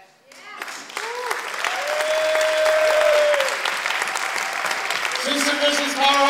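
Audience applause at a queer arts party night in San Francisco, rising quickly after a few seconds into steady, full clapping from a sizable crowd, with brief tonal sounds near the end.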